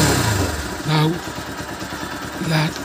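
A Bajaj Pulsar NS160 motorcycle engine idles steadily at close range with a low, even throb, while someone talks over it throughout.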